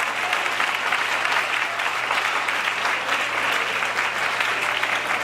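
A church congregation applauding in a sustained, dense wash of clapping that fills the room evenly for several seconds, with faint voices mixed in.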